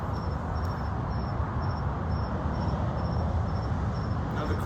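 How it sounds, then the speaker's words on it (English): Crickets chirp outdoors at night, a faint, regular high-pitched pulsing that carries steadily throughout over a loud, constant background rumble, with no talking. "the crickets behind us are not added sound effects. That's real, and that's really happening"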